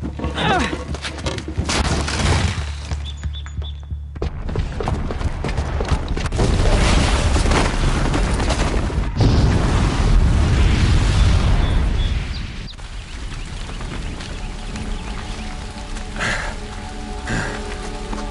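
A booby-trapped bomb going off in Horizon Zero Dawn: a heavy, sustained roaring blast with crackling debris, swelling louder midway and then settling into a steady rumbling wash.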